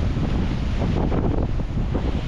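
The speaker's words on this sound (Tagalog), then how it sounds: "sobrang alon talaga ang ginaw-ginaw ng panahon ngayon" Strong wind buffets the microphone over rough sea waves aboard a boat off Mindanao during stormy, cold weather, a steady loud roar with surging water and no voices.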